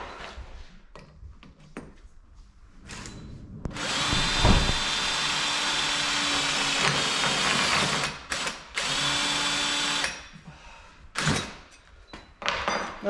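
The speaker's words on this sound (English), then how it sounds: "we simply drill 4 holes and then bolt the L brackets to the solar panel" A power drill bores holes through the double-skinned aluminium frame of a solar panel for a camper: a long loud whirring run, then shorter bursts separated by clicks and handling thunks.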